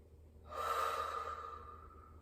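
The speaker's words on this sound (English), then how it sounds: "Close your eyes and take a deep breath in." A single slow, deep breath drawn in during a guided relaxation exercise, soft and close, swelling gradually and then tapering off with no talking over it.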